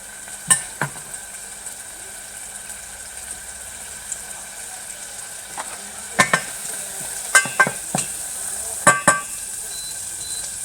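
Soft, steady sizzling of vegetables sweating in a pan for a red lentil dish, broken by a few sharp clinks and scrapes of a utensil stirring, with no talking.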